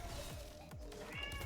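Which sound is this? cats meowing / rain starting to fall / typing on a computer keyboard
cats meowing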